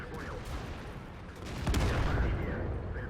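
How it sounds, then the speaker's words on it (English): Tank gun firing APCR rounds in World of Tanks, sharp cracks and rumbling blasts over continuous battle noise, swelling louder midway through with a heavy, sustained low boom. "Still firing my APCR."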